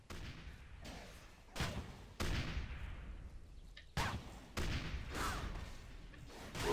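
Loud bursts of gunfire in quick succession from a gunner in the video game TERA, each blast cut sharply with short gaps between.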